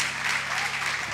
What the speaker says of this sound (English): One more time. We clap our hands.